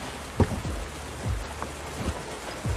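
Rain pours down in a dramatic film scene, a steady wash of falling water with a few heavier low thumps scattered through, moderately loud and continuous.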